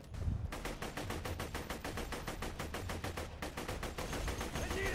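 Rapid automatic gunfire from a weapon in the video game Borderlands 2, a loud steady burst of evenly spaced shots that briefly breaks off and then resumes, with game sounds behind it.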